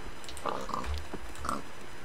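A Minecraft pig oinks in a few short, nasal grunts spaced across a couple of seconds, fairly close and clear over a quiet backdrop.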